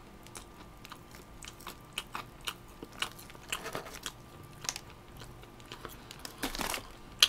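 Crisp, crunchy bites and chewing of fried chicken close to the mic, irregular crackly crunches repeating throughout at moderate volume with no talking.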